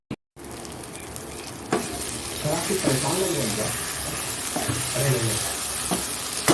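Sliced onion and poppy seed fry in a hot pan with a steady, close sizzle and some stirring, while voices talk over the cooking throughout.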